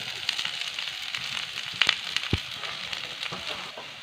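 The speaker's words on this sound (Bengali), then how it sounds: "এটা একটু নেড়ে চেড়ে ভালো করে ভেজে নেবো" Cabbage and onion frying in a pan for veg spring rolls, a continuous close hiss and crackle with a few sharp pops and stirring clinks.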